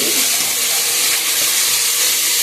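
Two spoonfuls of ginger paste fry in hot oil, giving a loud, dense, continuous sizzle close up, with no talking over it.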